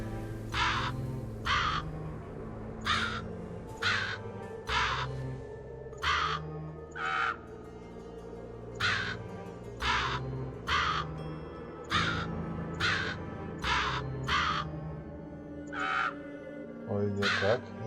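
Raven in the video game Book of Demons cawing repeatedly, about twenty evenly spaced harsh caws in a steady rhythm over a low droning game soundscape.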